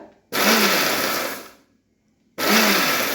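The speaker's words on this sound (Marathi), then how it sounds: "जारमध्ये ना आपण हे घातलं आहे आणि आपल्याला पल्स मोडवर आपल्याला हे फिरवून घ्यायचं आहे" A mixer grinder jar on pulse mode gives two loud, close motor whirs: a burst of about a second and a quarter that winds down, a brief pause, then a second burst starting.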